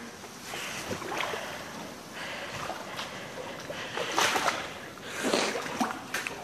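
Water in a dark tunnel sloshes and splashes in irregular bursts, close and moderately loud, as someone wades slowly through it.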